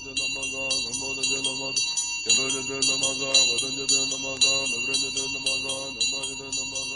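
In a Mongolian horror audio story, a ritual bell rings repeatedly in bright metallic strikes while a monk chants prayers, with the rhythm sustained throughout the clip.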